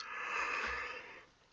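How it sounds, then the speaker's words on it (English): A person yawns in one long, breathy exhalation lasting over a second, fairly loud and close, trailing off into quiet. "I keep yawning so long."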